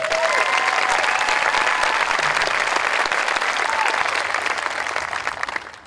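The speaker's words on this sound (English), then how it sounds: "we all deserve to give ourselves a big round of applause for that" Sustained applause from a high school graduation crowd, broad and enveloping, holding steady for several seconds before tapering off at the end, with a faint whistle early on.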